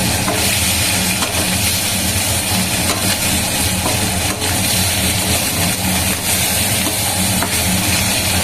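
Katla fish pieces fry in hot oil, giving a dense, loud, continuous sizzle with rough crackle throughout and no voices.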